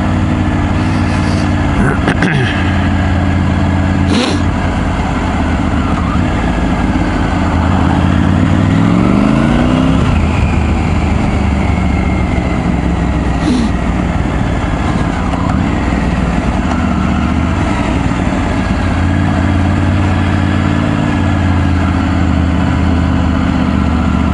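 A Triumph Tiger 900 Rally Pro motorcycle engine runs at low speed with a loud, steady mid-range drone and a brief rising rev partway through, heavily mixed with wind buffeting.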